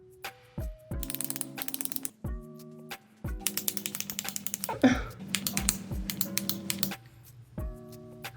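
A Victoria Beckham foundation pump bottle is clicked repeatedly, sharp plastic clicks coming in quick bursts and irregular clusters across about eight seconds, close and crisp, with a brief soft voice in the middle.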